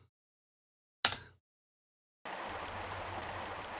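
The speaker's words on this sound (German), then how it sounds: "Nicht in den Fluss, Lara." A river in Tomb Raider Remastered rushes as a steady, soft wash of flowing water that starts abruptly after near silence and a single short splash-like burst, continuing evenly to the end.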